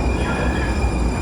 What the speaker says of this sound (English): That is my train way down there.